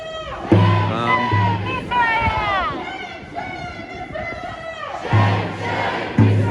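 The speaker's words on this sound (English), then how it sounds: "But a crowd of maybe 100, a couple hundred maybe." A crowd of one or two hundred protesters outside a televised political debate between Albanese and Dutton, with shouting, chanting voices and bursts of yelling overlapping in a close, loud street scene.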